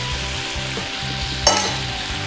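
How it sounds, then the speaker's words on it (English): Beef pad kra pao with holy basil leaves, soy sauce and oyster sauce is stir-fried in a pan, a loud, close sizzle with rhythmic scraping strokes and one sharp clatter near the middle, with no voices. "Quick stir around."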